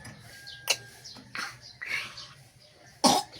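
A person coughs a few times at an outdoor market where avocados are being sold, with sharp bursts spaced across the moment and faint murmuring and background noise between them.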